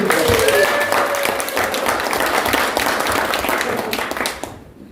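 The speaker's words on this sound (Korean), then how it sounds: "박수 한번 드리시죠." Applause from a forum audience in a hall, a full wash of clapping that starts loud and gradually fades out, a few voices mixed in beneath it.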